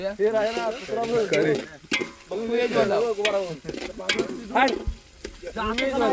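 Masala for chicken is stirred round and round in a pan at an outdoor village cookout, with sizzling and scraping strokes running under nearby talk.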